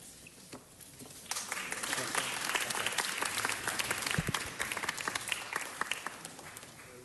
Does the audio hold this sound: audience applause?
yes